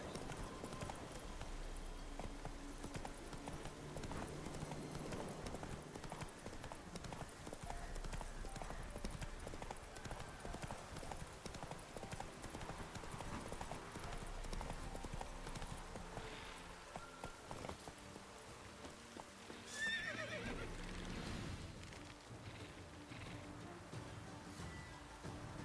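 Roach, a horse in The Witcher 3, trots along with steady hoof clip-clop beside a game soundtrack, and a brief whinny-like burst rises near the end; no speech is heard.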